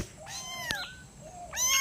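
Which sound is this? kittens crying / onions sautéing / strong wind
kittens crying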